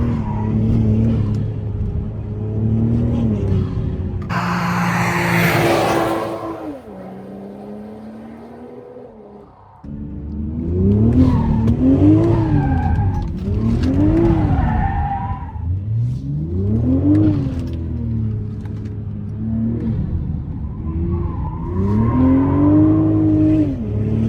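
A BMW Z4 driven hard: the engine revs up and down in repeated swells while the tires squeal in a sharp, sustained skid, all close and loud.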